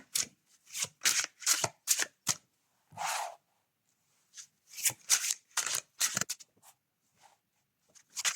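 Tarot-style cards are shuffled up close for a card reading in several quick riffling bursts separated by short pauses, crisp and fairly loud, with no talking.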